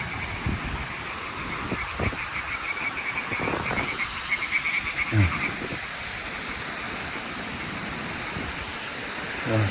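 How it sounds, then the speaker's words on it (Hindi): Frogs croak in scattered bursts over a steady rush of running water in a park in Al Baha, Saudi Arabia, fairly close, with no voices. "मेंढक की आवाज़ें"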